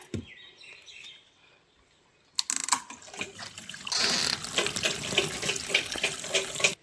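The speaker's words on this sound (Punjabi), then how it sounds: "ਸਾਫ਼ ਪਾਣੀ ਭਰ ਲੈਣਾ ਹੁਣ ਆਪਾਂ ਇਹਦੇ ਵਿੱਚ" Tap water gushing into the emptied tub of a washing machine before a heavy bed blanket is washed: a brief quiet lead-in with faint bird chirps, then a steady, loud, close rush of running water.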